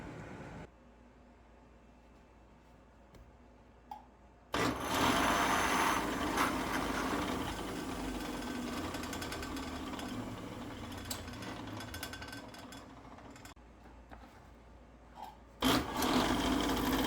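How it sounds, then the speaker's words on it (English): A sanding block rubs back and forth on a wooden bridge block for an Ovation 2058TX 12-string guitar, giving a steady, gritty scraping that runs for about ten seconds after quieter handling, close and moderately loud. "I'm going to clean it up a little bit with a sanding block"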